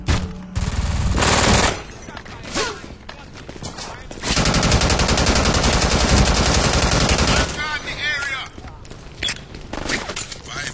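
Turret gunfire in the Brink video game, dense sustained bursts of automatic fire with short pauses, loud and close, mixed with game effects and a voice talking.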